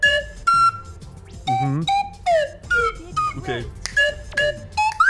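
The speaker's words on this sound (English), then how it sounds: "Give me that slide whistle." Slide whistle playing a video game theme, a run of bright gliding and hopping notes with pitch swoops between short phrases, close and loud, with a couple of brief spoken words.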